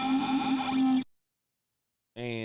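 A buzzy Trap Aliens synth lead preset from Native Instruments' Trill Rays expansion plays for about a second, falls silent, then a new bright, wobbling synth tone starts near the end.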